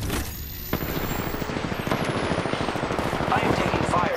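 Rapid, dense video game gunfire runs steadily under a mix of game sounds, close and loud throughout.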